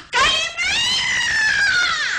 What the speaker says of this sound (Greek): Παιδάκι μου, να τσιρίζεις, να φέρνει ότι φοβάσαι.